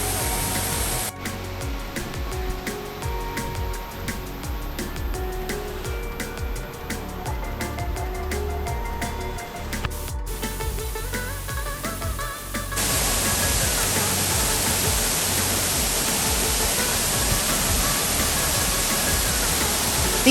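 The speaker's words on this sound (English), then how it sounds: "The cascading waterfall seems to have created a symphony here." Prut Falls cascading in Sohra, Cherrapunji, a steady, dense roar of falling water holding close and loud throughout, with the wash growing fuller and brighter in the final stretch.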